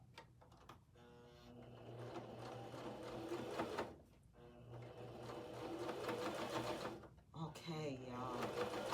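A sewing machine runs in steady bursts while sewing a jersey seam, its fast rhythmic stitching stopping briefly twice and then resuming, close and fairly quiet.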